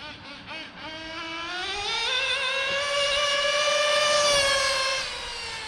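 A nitro RC buggy with a worn clutch screams past at high speed, its high-pitched two-stroke engine whine rising steeply in pitch and holding loud and close before starting to fade, no talking.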